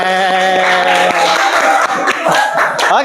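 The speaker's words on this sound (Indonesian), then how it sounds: "Tepuk tangan, keren." A classroom group of students clapping hands together in a rhythmic cheer, loud and close, mixed with sustained tonal sounds and voices over the few seconds.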